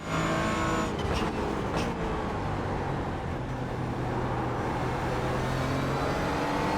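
A Porsche Cayman race car in a racing game roars by with a steady, loud engine drone and road rumble throughout, a brief surge around the first two seconds, and no voices.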